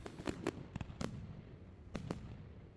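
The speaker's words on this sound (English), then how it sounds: "And then some nice fireworks and we're all done." Fireworks pop in the distance after an ultra trail race in the French Alps, a handful of faint sharp bangs in irregular bursts, some quick doubles, against quiet outdoor background.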